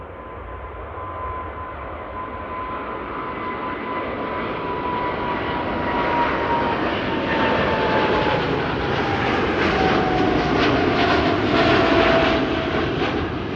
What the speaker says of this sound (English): KLM Flight 661 to Houston is coming